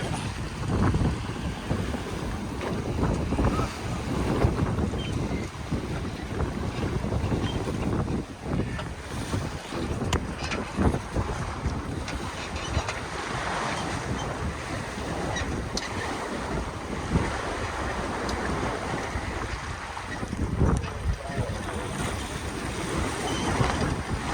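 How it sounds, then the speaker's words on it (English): Strong wind roars across the microphone aboard a sailboat on Lake Chelan in November, with water rushing and slapping against the hull in a loud, constant wash and no talking. "It's just a lot of wind up there."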